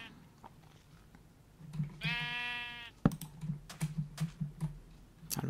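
Sheep bleat in the Minecraft video game, one clear drawn-out bleat followed by short clicky game sounds, with faint talk under it.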